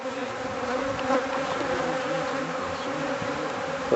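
A dense, steady swarm of honeybees hums around beehives, close and continuous with no pauses and no voices.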